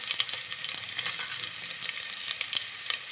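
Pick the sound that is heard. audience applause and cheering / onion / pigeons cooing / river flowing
onion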